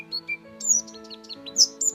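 Finch chirping, a quick run of short, high, bright tweets in an uneven rhythm, clear and close, with a steady musical tone underneath.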